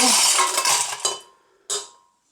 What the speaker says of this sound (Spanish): Una paleta de hielo picado.